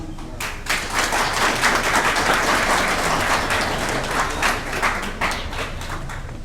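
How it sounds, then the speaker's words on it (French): Dense, sustained applause from a conference audience at an anniversary debate event, greeting a lawyer taking the microphone; many hands clap steadily and loudly for several seconds with no talk over it. "je vous demande de bien vouloir l'applaudir"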